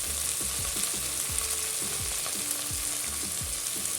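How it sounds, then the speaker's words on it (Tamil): Ginger garlic paste sautéing in ghee with coriander leaves and mint for ghee rice, a steady close sizzle and fry with repeated soft scraping stir strokes and no talk. "மல்லித்தழை, புதினா, இதையும் சேர்த்து நல்லா வதக்கிக்கோங்க."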